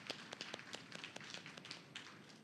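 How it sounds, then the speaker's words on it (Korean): A church congregation claps in a light, uneven patter of hand claps, faint and distant, lasting a couple of seconds with no talk over it. "박수하도록 하겠습니다."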